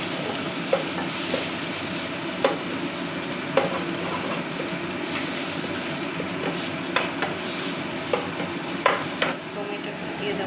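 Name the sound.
raw onions frying and being stirred in a pan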